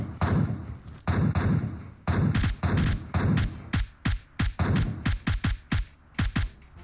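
Rapid, loud gunshots in PUBG Mobile ring out in tight bursts and single cracks, close and punchy, quickening into a steady run of evenly spaced shots toward the end.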